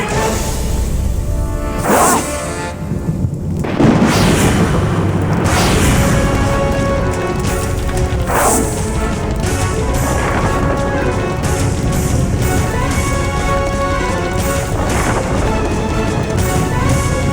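A loud, sustained roaring rumble with several sharp bursts and whooshes from an explosion on Earth, dense and continuous.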